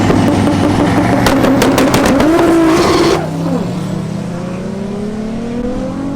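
A Toyota Supra at a race-week event revs hard up close for about three seconds, the engine note climbing loud and steady before it drops off to a lower, rumbling idle.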